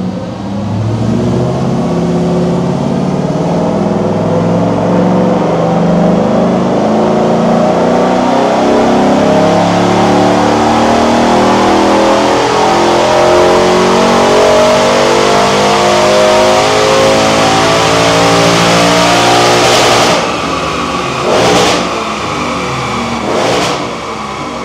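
A Ford Coyote 5.0L V8 in a Land Rover Defender 110 revs hard on a dyno, one long sustained loud pull with rising engine pitch, then a few sharp bursts near the end as it drops off.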